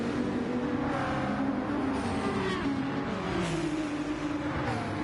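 A Dodge GT3 race car in a racing video game, heard from onboard, with a loud, continuous engine note that climbs and drops through gear changes without pause.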